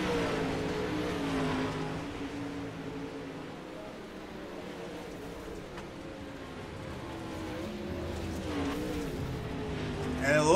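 Pro late model race cars circling the Eldora dirt track, engines roaring and droning at a distance under continuous commentary, with the noise swelling again near the end.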